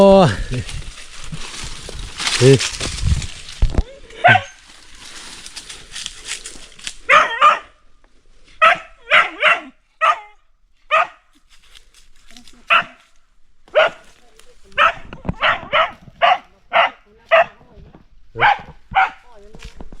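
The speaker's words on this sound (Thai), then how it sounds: "มีเห่าเลยตอนนั้น" Dogs bark in repeated short bursts from about seven seconds onward, loud and fairly near, some barks in quick doubles, after an opening stretch of people talking and calling out loudly outdoors.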